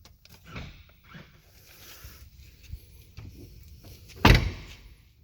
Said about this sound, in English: I'm going to go ahead and pop the engine cover. This can be done with a small button here next to the door sill.